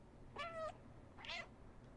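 A cat in the video game Stray gives two short, close meows about a second apart, over a quiet background.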